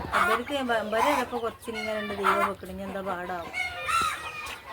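Chickens cluck and a rooster crows repeatedly among a mixed flock of fowl kept for sale, the calls close and loud, layered over one another throughout.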